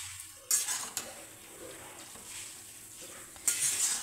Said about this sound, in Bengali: লোহার কড়াই কাঠের খুন্তি।